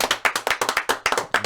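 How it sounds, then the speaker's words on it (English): One person claps their hands in a quick, uneven burst of about a dozen sharp, close slaps in a podcast studio, with no talking over it. "Oh, he clapped for himself."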